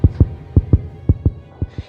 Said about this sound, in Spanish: el latido crecía cada vez más fuerte y más fuerte